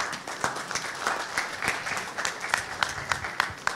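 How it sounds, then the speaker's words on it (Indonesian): Audience applause at an Indonesian football federation event celebrating the visit of world champions Argentina, a dense wash of clapping with sharp individual claps standing out, steady and fairly close throughout. "Tepuk tangan buat mereka."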